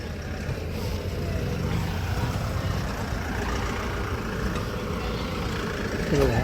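Trucks idle in a line at a tomato market, a continuous mid-level engine rumble with traffic and background bustle.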